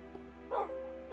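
A tamed dog in the Minecraft video game gives a short bark, a single quick yip heard close and fairly soft.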